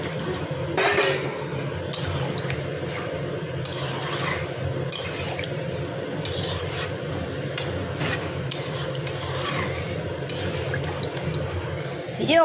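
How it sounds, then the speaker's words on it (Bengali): Hot water poured into a pot of mutton curry, a steady, close rush of liquid running under a continuous cooking hiss, with a few clinks of metal on the pot. "যে গরম জলটা দিয়ে দিলাম।"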